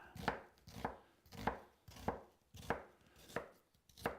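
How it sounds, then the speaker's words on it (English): A knife chops through an onion into thin slices on a cutting board, seven steady, evenly spaced thuds, close and distinct, with no talking. "So that's how I do thin sliced onions in a hurry"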